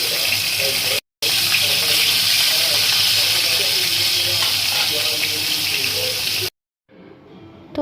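Fish pieces frying in oil for a Bengali fish curry, a loud continuous hissing sizzle that cuts out briefly near the start and stops toward the end.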